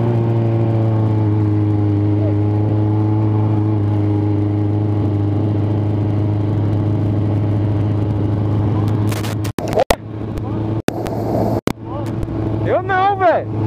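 A Suzuki GSX750F motorcycle with a full exhaust drones loudly and steadily while riding, then gives sharp blips and rising revs near the end; people talk over the engine.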